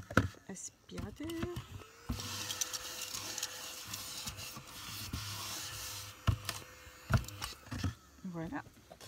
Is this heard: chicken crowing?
no